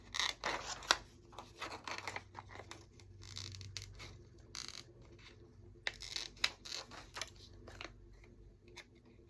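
Scissors trimming paper over cardboard while making a steampunk mini album with a shaker spine: a series of soft, close snips and crisp rustles at an irregular pace, fairly quiet and with no talk.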